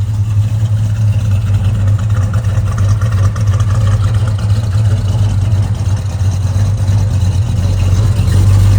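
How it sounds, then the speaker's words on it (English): A 1966 Ford F-100 pickup's big-block engine rumbles steadily with a deep low drone while warming up, running loud and close without clear rev spikes, holding near idle throughout. "Give it a second to get some warmth in that engine."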